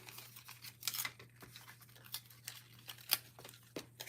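Precision scissors cut paper for a scrapbooking project: a quick series of close, crisp snips with soft rustling between them over a low steady hum.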